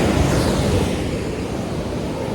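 Ocean surf at Anjuna Beach in Goa, a loud continuous roar of breaking waves and wash mixed with buffeting wind on the microphone, close and steady throughout.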